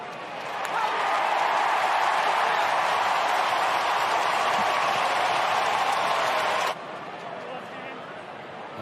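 A big stadium crowd roars loudly and steadily at an AFL match between the Sydney Swans and Geelong Cats, then drops abruptly to a lower murmur while a commentator talks.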